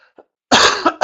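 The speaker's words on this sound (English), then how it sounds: "I still have a little bit of a cough left over" A person still recovering from a two-week illness coughs: a faint throat noise first, then a loud, harsh burst of coughing lasting about half a second, followed by one more short cough, close to the mic.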